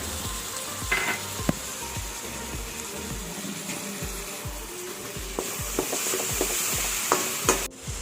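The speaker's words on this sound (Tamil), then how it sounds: "அடுத்ததாக நாம் அரைச்சி வச்ச வெங்காயத்தை இதில் போட்டு நல்லா வதக்கணும்." Ground onion paste sautéed in oil, after ginger-garlic paste, for Kanyakumari-style crab gravy: a steady frying sizzle with frequent clinks and scrapes of a spoon against the pan, close and moderately loud, no talking.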